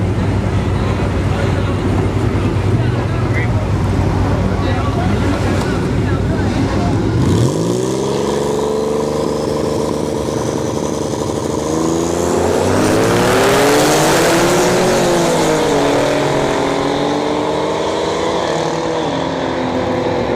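A V6 turbo Mustang and an AMG C63 launch side by side at a dragstrip, with a steady engine drone that swells into a loud, rising roar of hard acceleration as the cars pull away, heard from nearby under a commentator's voice.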